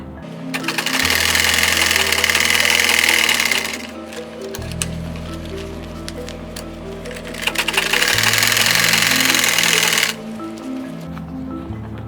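A sewing machine stitching fabric for a lunch bag runs in two long fast bursts of rapid whirring needle strokes, close and loud, with a lower hum and brief pauses between runs.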